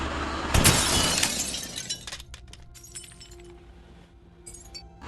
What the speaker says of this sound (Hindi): फिर नीचे बेसमेंट में शीशा फोड़ते हैं।